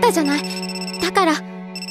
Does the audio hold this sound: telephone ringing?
yes